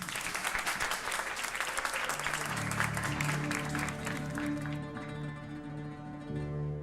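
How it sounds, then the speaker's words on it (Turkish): Audience applause for Firuzan Hanım fills the room, dense clapping that fades as a sustained musical tone and melody begin underneath, the music continuing alone at the end. "Alkışlar Firuzan Hanım için."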